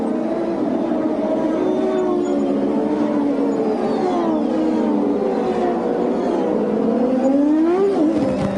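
IndyCars on warm-up laps at the 1996 Toronto street circuit whine continuously, with engine pitches rising and falling as cars pass and a louder sweep near the end.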